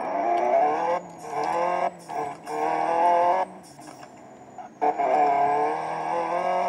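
A car pulls away after its handbrake is released, the engine revving in rising, surging bursts with brief drops between gear changes, loud and close, no talking heard.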